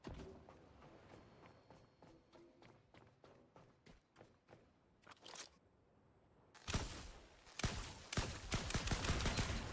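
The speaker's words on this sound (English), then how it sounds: "shooting it from the top does work" Gunfire in the video game The Last Caretaker, aimed at a base plate: a quick run of sharp shots, a brief pause, then louder rapid bursts close by.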